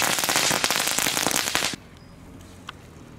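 Dense, rapid crackling of small category 1 consumer fireworks for a couple of seconds, then it stops abruptly, leaving quiet background with one faint pop.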